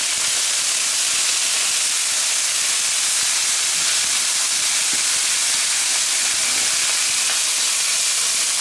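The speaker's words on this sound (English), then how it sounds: "we're gonna add our onion in. Let that saute up a little bit." Onion sautés in a pan for enchiladas, a dense, even, loud hiss of frying that runs steadily throughout without talk.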